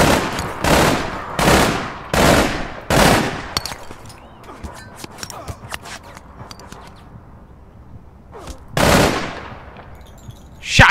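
Rapid bursts of automatic gunfire in the online shooter APB Reloaded, several loud volleys early on, then scattered quieter shots and clicks, with one more heavy burst near the end.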